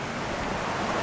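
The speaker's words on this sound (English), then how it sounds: "It's small, but it's a waterfall." A small waterfall rushes in a steady, close, broadband wash of falling water, loud and unbroken, with no voices over it.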